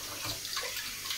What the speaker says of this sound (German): können wir noch ein bisschen Wasser dazu geben